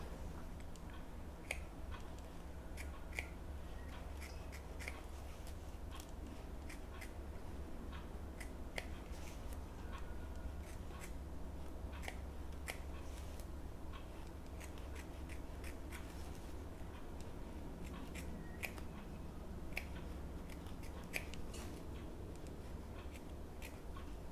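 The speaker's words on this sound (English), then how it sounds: "I just use little snips and I just pick it up, pull the fabric away and just snip close to the stitching" Small snips trim fabric and fleece or foam close to a bag seam's stitching, producing many quiet, close, irregular snipping clicks over soft rustling.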